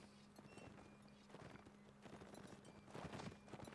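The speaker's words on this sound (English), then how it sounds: "hear the clippity-clops of hoofs" Horse hooves clip-clopping on sand in the Napoleonic Wars video game, a steady run of overlapping hoofbeats from several cavalry horses, moderately close and continuous.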